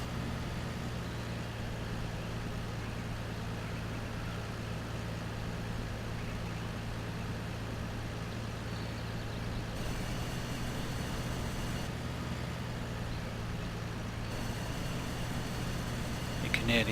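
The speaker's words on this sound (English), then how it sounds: "You can hear the engine rev slightly change as you lift the back up." A tractor engine in Farming Simulator 2013 drones steadily while the rear hitch lifts, with a subtle shift in pitch partway through and a constant low hum underneath.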